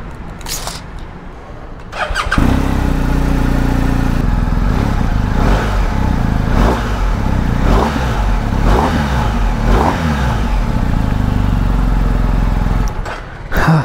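A Kawasaki ZX-10R sport motorcycle starts after sitting unused for many days, then idles loudly and close with a deep steady engine drone, rising and falling through repeated throttle blips.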